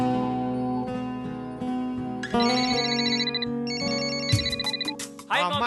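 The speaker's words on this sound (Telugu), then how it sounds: "ఒక్క నిమిషం అభి, మీ ముగ్గురితో కాన్ఫరెన్స్ కాల్ మాట్లాడతాన" A phone ringtone rings for a conference call in a Telugu comedy scene, its melodic repeating tones sounding steadily over a background music bed, with brief bursts of louder chiming near the end.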